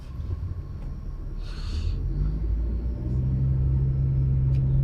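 A large white pickup truck drives past at night with full-beam headlights, its steady low engine and road rumble building and holding loud and close, with no talk.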